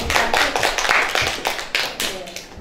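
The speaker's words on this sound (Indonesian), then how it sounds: "kita beri aplaus dulu untuk Ibu Nurani" An audience at a teachers' dissemination session claps for a speaker, with a short patter of hand claps close by and a voice talking over part of it.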